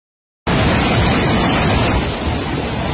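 A river swollen by Hurricane Iota floodwater rushes in Nueva Esperanza, Honduras, cutting in suddenly as a loud, dense, unbroken roar of churning water with no voices over it.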